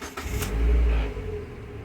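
A Mazda MX-5 NB engine cranks and fires in a short, close burst that swells and then settles toward idle.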